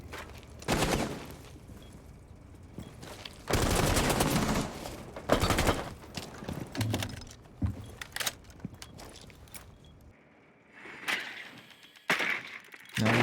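Gunfire rattles in a Rainbow Six Siege match: repeated rapid volleys and single shots at close to mid range, with shorter pops, clicks and movement noises between bursts.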